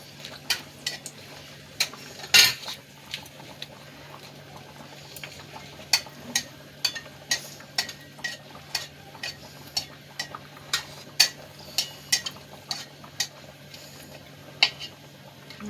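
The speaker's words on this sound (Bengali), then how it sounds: "লঙ্কাগুলো ভাজা হয়ে গেছে।" Dried red chillies frying in a pan until blackened: a soft, steady hiss under sharp crackles and pops that repeat roughly every second, close by and with no talking.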